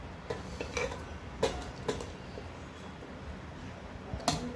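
Utensils tap and scrape against a plate and pot while rice is served, making a few soft, scattered clinks over faint room noise.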